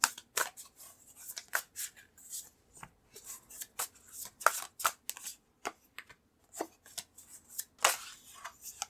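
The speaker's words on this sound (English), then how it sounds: "So I'm going to pull out more cards." Tarot cards being shuffled and pulled from the deck, a quick run of crisp, close slaps and rustles in uneven bursts, fairly quiet with no talking.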